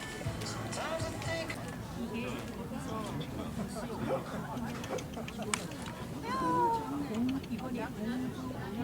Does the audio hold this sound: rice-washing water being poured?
no